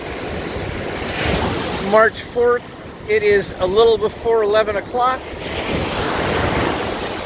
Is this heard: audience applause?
no